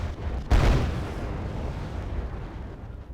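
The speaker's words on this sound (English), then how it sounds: "Here comes the bombing run and the rockets." A bombing run with rocket explosions in the Wargame: Red Dragon strategy game: one heavy, loud blast hits suddenly, then a long rumbling roar slowly decays.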